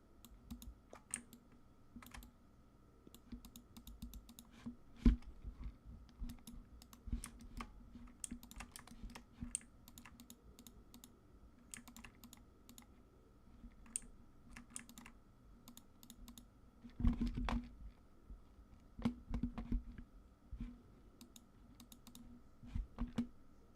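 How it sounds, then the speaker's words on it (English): A computer keyboard clatters in bursts of quick, light keystrokes, faint and somewhat distant, with several louder clusters of typing and short gaps between them. "I can hear your keyboard"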